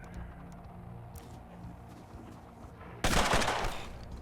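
A sudden burst of gunfire in the tactical game Mutant Year Zero: Road to Eden, loud and sharp after a quiet stretch of low ambient background.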